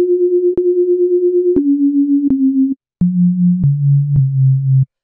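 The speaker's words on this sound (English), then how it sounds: "it's just two sine waves, and then they're just detuned a little bit" A pure, smooth synth bass made of two slightly detuned sine waves, stepping down through several pitches with a slow wobble, each note starting with a soft click, one brief gap midway.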